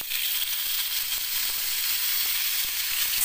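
Rice sizzles and fries in a pan for a Turkish pilaf, giving a steady, close hiss with faint crackles and no voices.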